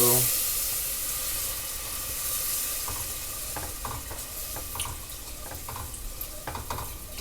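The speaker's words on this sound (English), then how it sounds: "I'm going to slowly stir in some milk and some heavy cream" Milk and heavy cream being stirred into a golden brown roux in a pan, a soft hiss and sizzle with scraping stir strokes that grow busier toward the end, no talking.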